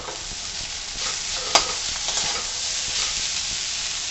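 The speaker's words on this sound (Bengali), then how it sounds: "একটু নাড়িয়ে নেব" Chow mein with egg sizzles steadily as it is stirred in a hot wok, with a continuous frying hiss and a single sharp scrape of the utensil partway through.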